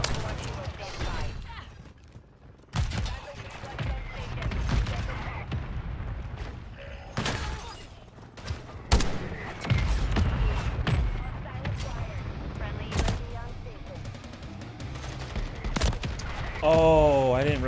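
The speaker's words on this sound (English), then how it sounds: "Mortar strike inbound now." Mortar strike explosions in Call of Duty MW Zombies land as a series of heavy booms and thuds scattered across the span, mixed with gunfire and game radio chatter.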